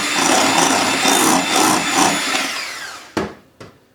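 A mixer whirs loudly and continuously while mixing a lemon cream filling for crepes, then stops with two sharp knocks.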